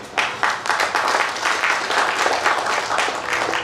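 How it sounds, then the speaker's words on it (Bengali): An audience at a drama festival applauds after a play, a steady wash of many hands clapping at once, dense and continuous throughout, fairly loud with no pauses. "আসলে নাটকটা যদি ভালো লেগে থাকে একটা যদি হাততালি পাই।"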